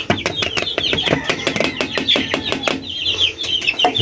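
Young chicks eating wet feed mixed with rice and boiled egg give a steady stream of rapid, high cheeps and clucks close by, with busy pecking and no pauses.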